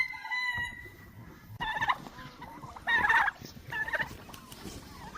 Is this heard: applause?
no